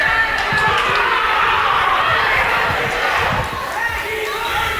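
A loud crowd roars and cheers through a district football championship match between NKC and Staley, a steady dense wall of voices with thumping impacts underneath, close and continuous.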